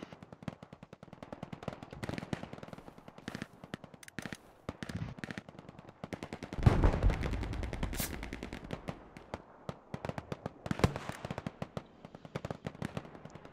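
Distant battlefield gunfire in a World War II shooter crackles in scattered bursts of automatic and single shots, with a deeper rumbling explosion midway, moderately faint throughout and no voices.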